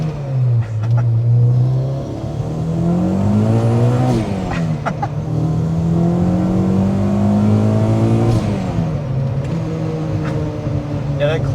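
A supercharged Honda Civic Si with a manual transmission accelerates hard in low gear, its engine droning loudly and rising and falling in pitch as it revs, heard from inside the car.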